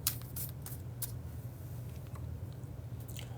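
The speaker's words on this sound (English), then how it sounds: "Shuffling the cards back into the deck and prepare for the Scorpio reading." A deck of tarot cards is shuffled by hand. It gives soft, steady riffling and sliding with a few sharper flicks over a constant low background hum.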